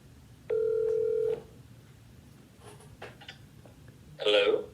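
One steady ringback tone sounds on a phone call for under a second, then there is quiet with faint clicks, and at the end a person answers the call and speaks.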